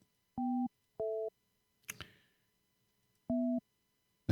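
A telephone line on a live phone-in show gives out short, evenly pitched electronic tone bursts, three in all, with a brief click-like rustle between them and silence around them.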